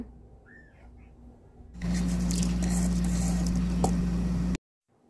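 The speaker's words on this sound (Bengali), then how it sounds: "এখন দুধের মধ্যে দিয়ে দিচ্ছি ধুয়ে রাখা চালগুলো" Washed rice is poured into a pot of milk for payesh, a soft, close wet patter and squish lasting a few seconds over a steady kitchen hum, with no talk.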